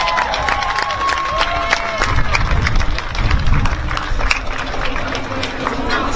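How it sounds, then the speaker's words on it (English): A crowd applauds and cheers at an outdoor rally in Minneapolis, a dense, loud wash of clapping with scattered shouts, steady throughout with voices mixed in. "I want you guys to all give a round of applause and support and welcome Muhammad Salat."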